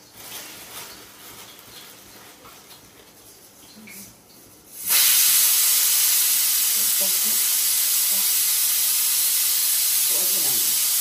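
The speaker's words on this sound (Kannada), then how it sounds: "ಒಗ್ಗರಣೆಗೆ ಇಷ್ಟನ್ನು ಹಾಕ್ಕೊಡೋಣ" Whole spices dropped into hot oil for a biryani tempering set off a sudden loud, sustained hiss and sizzle that takes over from quieter kitchen sounds and persists steadily to the end.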